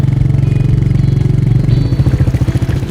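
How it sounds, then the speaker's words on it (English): Royal Enfield Meteor motorcycle engine with a high-torque exhaust note, a loud, close, steady thumping beat that continues without pause throughout. "it's a signature engine sound, a very signature exhaust note"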